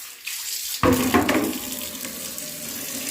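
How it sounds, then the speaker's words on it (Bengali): Tap water gushes into a bucket, starting abruptly and then settling into a steady, loud splashing pour close by, with no talk. "জলটা ভরে"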